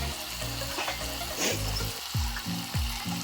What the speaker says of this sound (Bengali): এবার মাংসটাকে ভালো করে লাড়া হবে মাংসটাকে লাড়া হচ্ছে ভালো করে লাড়া হচ্ছে মাংসটাকে